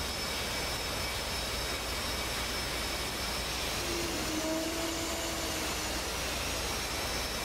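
Steady, loud rotor and turbine drone from a CH-47D Chinook helicopter in the DCS World flight simulator, a continuous broadband roar with a faint whine rising briefly partway through, no voices.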